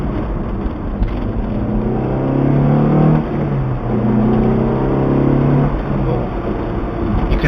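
Peugeot 306 GTI-6 engine revs with a fruity, raspy tone, a steady loud drone rising and falling in pitch over several seconds, heard close with no speech.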